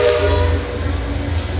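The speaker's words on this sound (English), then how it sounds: "That was a warning whistle." A riverboat warning whistle sounds on Disneyland's Rivers of America as a steady, loud tonal blast over a low rumble, fading slightly after the opening second.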